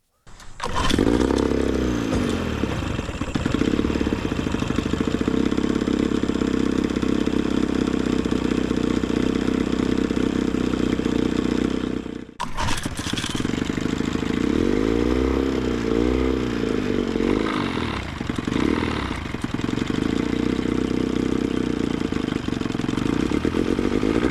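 A 2-stroke outboard boat motor runs loudly and continuously, with a buzzing, rattly drone and a brief dropout midway before it picks back up, wavering in pitch as it revs.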